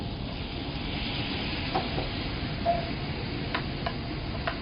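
Reheated vegetables sizzle in a pan as a little cooking liquid is added, a steady soft hiss with a few faint clinks and ticks scattered through it.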